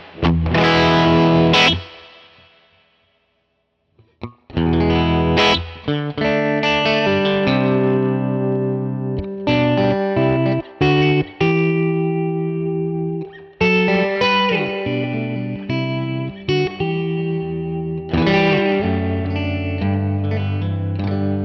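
An electric guitar runs through a Universal Audio Dream 65 reverb pedal, strummed chords and phrases blooming into a lush, wet tail that keeps ringing, after a brief pause near the start. Played alone, without voices.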